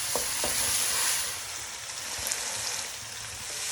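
Onion and garlic fry in a pan with a steady, close sizzle and a few light clicks of stirring, heard alone without talk.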